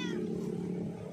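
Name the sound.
stray white cat meowing in a cemetery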